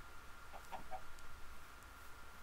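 A chicken in the video game Minecraft gives a few short, soft clucks over a steady hum of game ambience, with no talking.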